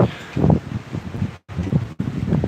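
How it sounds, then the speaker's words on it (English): Gusty hurricane wind at Wrightsville Beach, North Carolina, buffets the microphone in uneven low rumbles, loud and close, with brief drops to silence between bursts. "It's windy."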